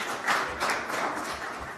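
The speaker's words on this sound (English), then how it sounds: "Round of applause for our last panelist." Brief applause from a seated audience greeting the last panelist at a provincial politics panel event: a spread of soft, fairly quiet claps at a steady level with no voices.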